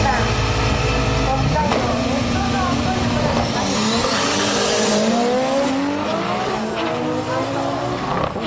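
A drag race car with a T88 34D turbo launches hard and accelerates with a rising turbo whine and engine roar, loud and sustained, while a voice narrates over the noise.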